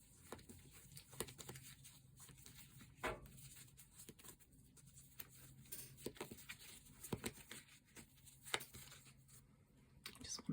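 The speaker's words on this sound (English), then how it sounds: "Let's have a shuffle and see what comes up." Tarot cards being shuffled during a reading produce a quiet, irregular patter of soft taps and flicks, close and faint, with no voice heard.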